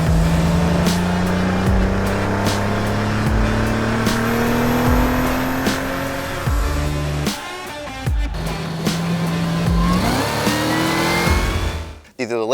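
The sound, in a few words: Cadillac CT4-V / CT5-V Blackwing sedan driving on race track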